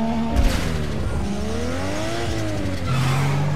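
A street drag race car launches in Need For Speed Underground 2, its engine revving with rising and falling tones under a steady synthetic game roar, loud and close with no talk.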